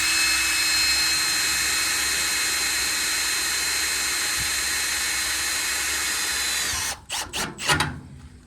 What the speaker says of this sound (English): So you can see them right there, they just drill themselves in.